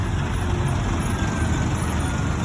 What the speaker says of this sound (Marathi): पाण्याचे टँकर